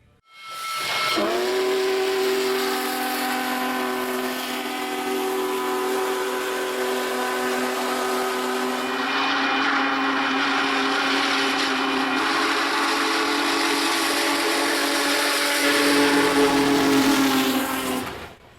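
A steam locomotive's whistle blows long and loud with a steady hissing of steam, sustained for many seconds before cutting off, in central Arkansas.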